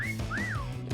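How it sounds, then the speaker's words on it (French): A whistle sounds in the video game Meccha Chameleon: a short high tone followed by a rising then falling sweeping note, clear and alone over a soft low game hum. "Oh, le sifflement!"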